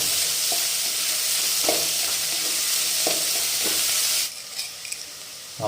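Onions frying toward golden for a Kerala-style mutton curry give a bright, continuous sizzle with a few stirring knocks. The hiss drops abruptly near the end, leaving quieter crackles.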